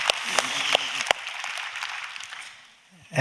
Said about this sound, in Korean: 하나님께 박수로 감사와 영광 올려드립니다.